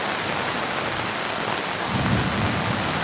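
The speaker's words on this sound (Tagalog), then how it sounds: "kumukulog-kulog pa nga" Steady heavy rain hisses throughout at a mountain campsite in Tuba, Benguet, and a low rumble of thunder rolls in toward the end.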